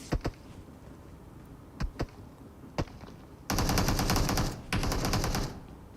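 Automatic gunfire in the BGMI battle royale game: a few single shots, then two long, loud bursts of rapid fire close by.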